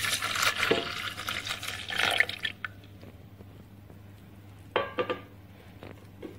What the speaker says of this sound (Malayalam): നേരത്തെ തിളപ്പിച്ച് വെച്ചിരുന്ന പാല് ഇപ്പം ചെറു ചൂടോടുകൂടിയാണ് ഇരിക്കുന്നത് അത് നമുക്കിതിലേക്ക് ഒഴിച്ചു കൊടുക്കാം